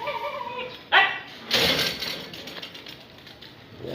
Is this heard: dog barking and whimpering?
yes